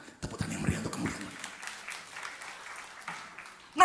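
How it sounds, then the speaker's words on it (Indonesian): Church congregation applauding during a sermon by Pastor Lukas Kusuma, a moderately faint, steady wash of clapping with a low murmur of voices near the start and a sharp louder burst at the very end. "Tepuk tangan yang meriah untuk kemuliaan"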